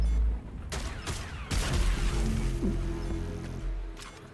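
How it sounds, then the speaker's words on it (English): A flashbang grenade goes off in a Fortnite match, a loud sharp blast followed by a ringing, sustained roar of game audio with brief bangs, close and dense. "Flashbang."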